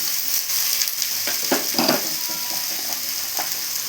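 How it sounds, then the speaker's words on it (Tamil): Beans sautéing in a pan for avial, a steady sizzle with a few louder stirring scrapes and tosses partway through, close and continuous. "பீன்ஸ் போடலாம் நல்லா வதக்கலாம்"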